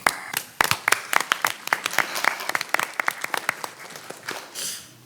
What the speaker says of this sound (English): Relish the clapping, I'm serious.